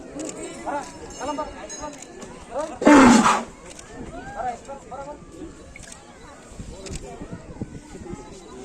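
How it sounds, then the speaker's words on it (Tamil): Temple elephants raise their trunks and trumpet during a Vinayagar Chaturthi festival. One short, loud blast bursts out mid-way over continuous talking and background bustle. "யானைகள் தும்பிக்கையை உயர்த்தி பிளறி சத்தமிட்டு வழிபட்டன"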